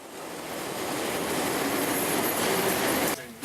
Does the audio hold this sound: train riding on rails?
yes